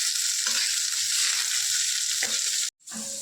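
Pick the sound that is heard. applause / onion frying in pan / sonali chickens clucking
onion frying in pan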